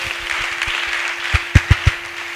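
Church congregation applause, a light scatter of claps that builds into several louder, sharper claps toward the end over a steady room tone.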